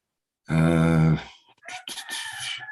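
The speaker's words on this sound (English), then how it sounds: "The rooster crows here, usually toward the end of a workshop" A rooster crows indoors, one loud, full cock-a-doodle-doo close by, followed by softer rough clucking and grunting noises.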